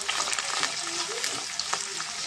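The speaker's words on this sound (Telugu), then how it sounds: "ఇప్పుడు దీంట్లో మనం కట్ చేసుకున్న ఉల్లిపాయ ముక్కలు వేసేసుకున్నామండి ఇది కూడా బాగా ఫ్రై అవ్వాలి" Chopped onions frying in hot oil with curry leaves for a prawn and tomato curry, a steady close sizzle with light crackle throughout.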